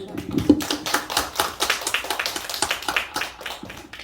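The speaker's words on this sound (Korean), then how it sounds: "하나님께 영광의 박수" A church congregation claps together in praise during a Sunday worship service, a steady run of quick hand claps at moderate loudness with a little voice underneath.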